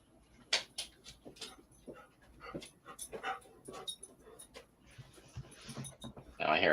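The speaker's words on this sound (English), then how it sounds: "Now I hear a bigger dog somewhere." A dog pants, whimpers and yips indoors at close range, mixed with faint voices and household noise, with a louder burst of rustling at the end.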